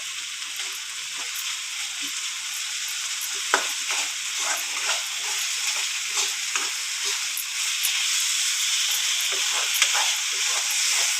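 Dried fish (karuvadu) sautéing in a pan gives a steady, loud sizzle and hiss, broken by repeated scraping of a spatula stirring it, with no talking.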